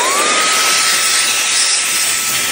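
A HOTO compressed air capsule blower runs at full power blowing grass out, a loud, steady close-up hiss that holds for the whole moment without pause.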